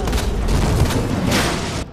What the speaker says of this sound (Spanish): Yo por si acaso le disparo una vez más.